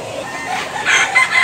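A white rooster, around two years old and kept for sale in Tabunok, Cebu, crows loudly and close by in a single drawn-out call that climbs and wavers over about a second and a half.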